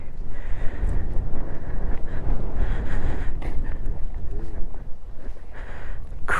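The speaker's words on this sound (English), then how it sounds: "windy up here." Strong wind roars and buffets the microphone on a mountain ridge along the Appalachian chain, a loud, gusty, continuous rush.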